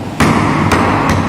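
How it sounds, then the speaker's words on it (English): A wooden mallet strikes a mortise and tenon joint in a carpentry shop, giving three loud, sharp, close knocks at uneven intervals with short ringing decay. "to tighten it we have to strike it by using mallet."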